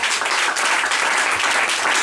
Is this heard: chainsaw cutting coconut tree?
no